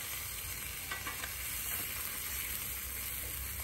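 Smash burger patties sizzling on a Blackstone portable griddle, a steady close frying hiss with faint crackles, no voices.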